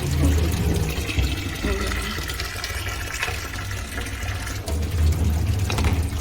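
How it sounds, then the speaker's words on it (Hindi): Water being poured off after washing rajma in a home kitchen, a steady splashing flow under ongoing background noise, with talk nearby. "फिर हाथ लगा के पानी गिरा देती।"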